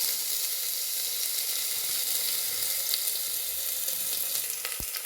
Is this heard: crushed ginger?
yes